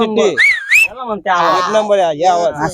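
During a hunting outing, a person gives a short, wavering whistle as a signal that game has been found, followed by close voiced sounds and talking.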